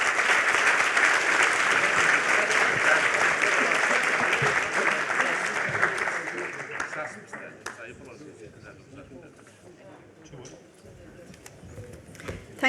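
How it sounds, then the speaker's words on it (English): A conference audience applauds panelists in a hall, a loud, dense clapping that runs steadily for about six seconds and then tapers off to scattered claps and quiet room noise. "I hope you can all give a big round of applause for our panelists."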